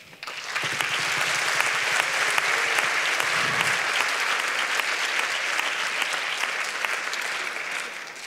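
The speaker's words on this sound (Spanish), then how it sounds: "les damos un aplauso" Sustained applause from an audience at a school diversity event, a dense, steady wash of clapping that starts abruptly and holds loud and even throughout, with faint voices mixed in briefly.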